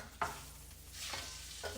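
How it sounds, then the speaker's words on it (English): Chicken sizzles in a skillet as it is stirred, with a steady fry hiss broken by three scraping stir strokes, close and moderately loud, no talking. "Can you hear that sizzle?"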